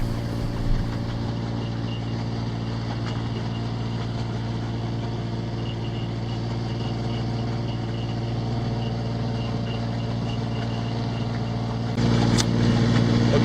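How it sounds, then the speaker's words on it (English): A sailboat's engine runs steadily in need of repair, a constant low drone held for the whole stretch that swells slightly louder near the end, with no talking. "that's the sound of an engine or needs some work"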